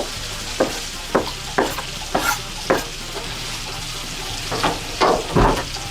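Green onion and garlic stirred and sizzling in a pan for Cajun pasta, with a steady fry hiss broken by a series of spoon scrapes and stirs, close up, no talk.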